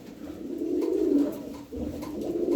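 Pigeons kept for sale coo softly and continuously at close range, a low rolling warble that swells and dips twice with no voices.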